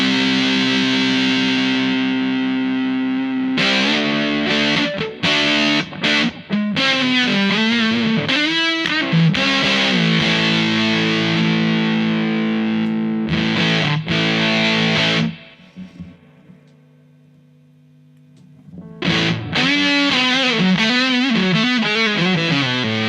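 Electric guitar driven through a Big Muff fuzz pedal, loud, thick and heavily distorted, with sustained chords and fast riffing that cuts out into a brief near-silence before roaring back.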